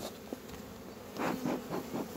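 Dense honeybees buzz close by as a small nucleus colony is moved into a full hive, a steady droning hum swelling into louder pulses in the second half, with no talking.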